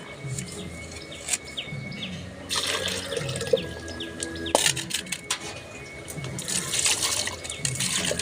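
Water splashes and runs steadily as salted, cleaned kilaikan fish are rinsed in a basin of water, with irregular louder sloshing bursts and faint birds chirping in the background.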